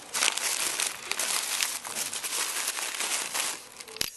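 Tissue paper crinkles and rustles continuously up close while being handled to make a puppet, soft and crackly, with a brief sharp tick near the end.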